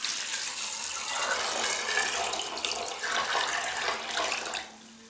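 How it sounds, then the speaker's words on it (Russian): Water pours steadily in a continuous splashing gush over chickpeas in a cooking pot close by, then cuts off abruptly near the end. "Помещаю в емкость, в которой буду варить, заливаю водой."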